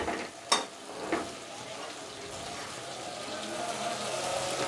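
Chicken in yogurt is stirred in a pan, with soft scraping and a steady low sizzle. Two brief clinks come early, and everything stays fairly quiet and close.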